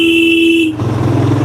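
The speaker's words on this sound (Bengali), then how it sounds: "এখানে একটা যেটা বাজে অভ্যাস এখানকার ড্রাইভারদের টার্নিং পয়েন্টে হর্ন দেয়" A single steady vehicle horn blast sounds loud and close at a turn on a mountain road near Mirik, then cuts off into the rumble of a passing engine and road noise.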